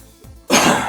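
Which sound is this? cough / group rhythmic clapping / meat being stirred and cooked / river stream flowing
cough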